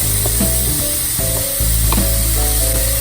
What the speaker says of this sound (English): Once the oil is hot, we will be putting the ginger. Stir it.